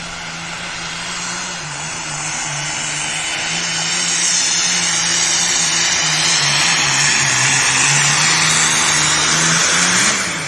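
A John Deere 4430 tractor roars at a tractor pull, its loud engine drone holding steady and then building in strength as it labors down the track, with no talk over it.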